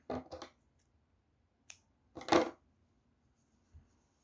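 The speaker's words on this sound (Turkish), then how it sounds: "Şuradaki artık bu ipi kesebilirim" Scissors snip crochet yarn in a few quick, crisp clicks, close and quiet, with short pauses between cuts.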